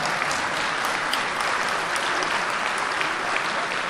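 Steady, full audience applause for elected officials, a dense, even roar of many hands clapping without pause throughout.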